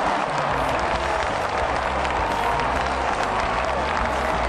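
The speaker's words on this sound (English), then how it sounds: "And the crowd goes wild." A crowd applauds and cheers on a talk radio show, producing dense, continuous clapping at a steady loud level for several seconds, with whoops mixed into the roar.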